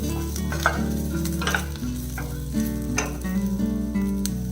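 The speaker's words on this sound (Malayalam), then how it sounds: "അപ്പോൾ ഇതും കൂടെ ഇട്ട് നല്ല രീതിയിൽ ഒന്ന് ചൂടാക്കാം." Ivy gourd mixed with tamarind heated in a pan gives a steady, close sizzle throughout, with stirring.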